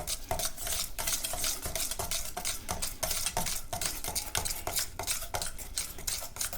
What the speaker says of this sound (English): our whisk and we will mix all of our spices into our sauce really well